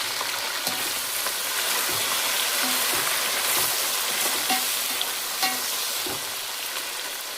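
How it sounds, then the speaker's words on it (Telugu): Tomato pieces, green chilli and coriander fry in hot oil in a pan for chicken biryani, a loud continuous hiss and crackle up close with occasional stirring knocks and no talk. "ఇప్పుడు ఇందులో వచ్చేసి టమాటా ముక్కలు వేస్తున్నాను, ఇంకా గ్రీన్ చిల్లీ, కొద్దిగా కొత్తిమీర"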